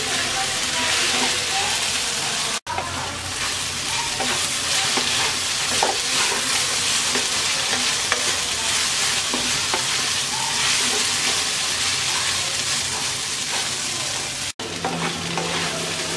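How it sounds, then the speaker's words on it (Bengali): Okra sizzles steadily in a pan over medium heat for a coconut bhindi fry, a loud, continuous hiss of frying broken by scraping stirring strokes throughout. "ভেন্ডিটাকে 4-5 মিনিট ভেজে নেব।"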